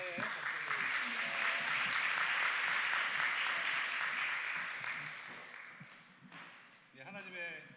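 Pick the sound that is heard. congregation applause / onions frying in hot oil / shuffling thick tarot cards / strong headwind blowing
congregation applause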